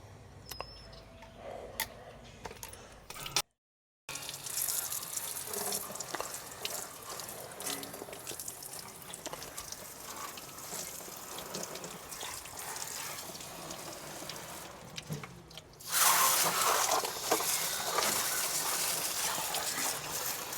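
Water gushes steadily from a garden hose outdoors during air conditioner repair work, a continuous splashing hiss that briefly cuts out, then returns louder and fuller toward the end.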